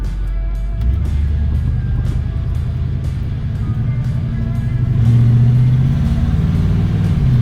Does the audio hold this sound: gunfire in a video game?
no